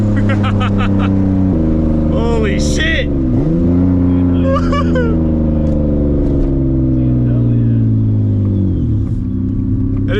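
A single-turbo Nissan 350Z engine revs and accelerates loudly through several gear changes, its deep harmonic roar rising and falling, with voices talking over it.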